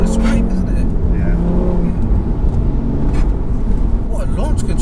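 A 440 bhp APR-tuned Audi RS3 launching hard with launch control, the engine roaring loud and close from inside the cabin, with people talking over it.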